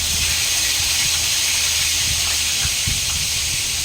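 Pork meat frying in a pan gives a loud, steady sizzling hiss, with small pops and crackles, up close and continuous.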